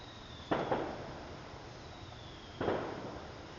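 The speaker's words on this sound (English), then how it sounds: "Fireworks. Listen to that." Two distant fireworks bursts outdoors, each a sharp crack followed by a fading rumble and crackle, spaced about two seconds apart.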